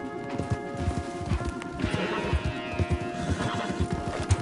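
Horses gallop in Red Dead Redemption 2, their hooves pounding in a steady, rapid clip-clop close by over rustling game ambience, with a brief whinny partway through.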